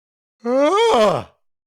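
A single close, loud human yawn rising then falling in pitch, about one second long, in isolation.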